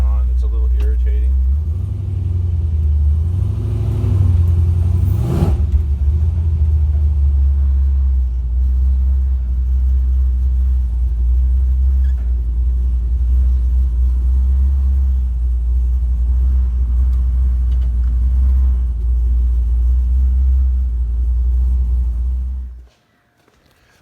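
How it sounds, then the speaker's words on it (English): A truck engine idles high in a steady, low drone with a faint resonant hum, then cuts off abruptly near the end. "definitely idling high. It's got that little resonation going on."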